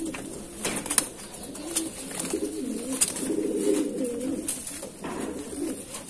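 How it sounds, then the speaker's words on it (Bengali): A Madrasi pigeon pair coos in low, throaty rolling phrases, rising and falling over several seconds, close by, with occasional sharp taps and wing rustles scattered through. "এই হচ্ছে পায়রা, এটা হচ্ছে মাদি পায়রা"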